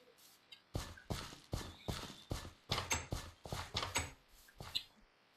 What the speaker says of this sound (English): Hello, spooky horse.